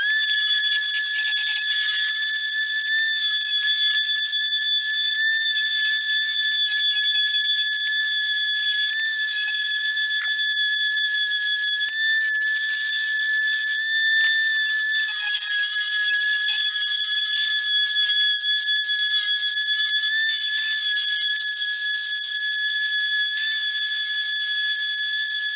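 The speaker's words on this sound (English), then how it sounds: "I'm going to use my little random orbital just to kind of clean up what I did with the grinder." A small random orbital sander smooths a log for a dovetail log cabin after grinder work, giving a steady high-pitched whine that holds constant and loud for the whole stretch.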